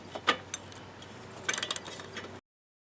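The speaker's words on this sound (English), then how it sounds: "Then we'll put our wrench on there." A wrench snugs a reinstalled spark plug on a Powermore 139cc small engine, giving a few scattered metallic ticks, then a quick run of ratcheting clicks, close and fairly faint before cutting to silence.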